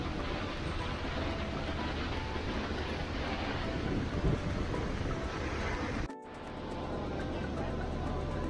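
Strong wind buffeting a new ferry crossing from Singapore to Batam at night, a loud, steady roaring rush that drops off abruptly near the end before settling into a lower hum.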